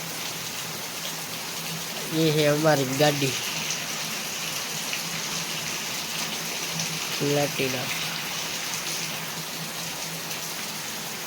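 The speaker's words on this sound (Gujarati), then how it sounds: "હમણાં જ વરસાદ ચાલુ થયો છે" Heavy rain pours down steadily outdoors as a constant dense hiss, with two short bursts of a person speaking over it.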